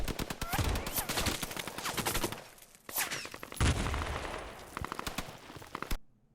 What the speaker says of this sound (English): a lot of sound design to make it look like there's bullets flying everywhere